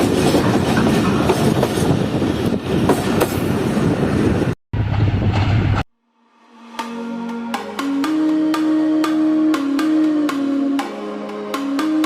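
A Jand passenger train in Pakistan rumbles loudly along the rails, then after a brief cut it continues with rhythmic clickety-clack wheel beats and squealing, ringing metal tones as the carriages roll over joints.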